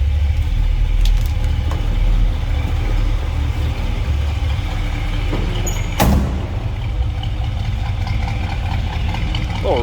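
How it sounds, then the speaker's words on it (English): The 350 V8 of a 1963 Chevrolet Bel Air two-door post idles with a steady low rumble, a continuous mellow throb close by, with a few faint clicks and a brief sharp knock partway through. "Little rumble coming out of that 350."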